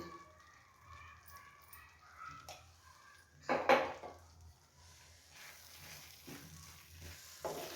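Ghee sizzles in a pan of beetroot halwa, a soft steady frying hiss with scraping stir strokes and a sharp clink of utensil against the pan midway, all quiet and close.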